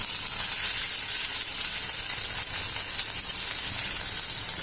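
Steady, dense sizzling and crackling of potato pieces frying in hot oil, close and continuous with no voices.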